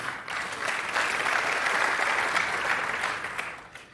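A TED talk audience breaks into applause, swelling from scattered claps into a fuller round before thinning out again.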